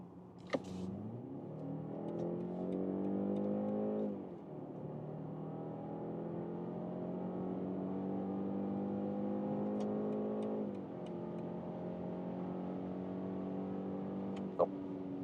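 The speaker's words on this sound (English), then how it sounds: "And now driving the small petrol engine, the 4-cylinder, sport mode." A BMW 5 Series G60 with the 2-liter four-cylinder petrol engine in sport mode pulls hard through the gears, engine note rising steadily, dipping at two clear upshifts, heard from inside the car without talk.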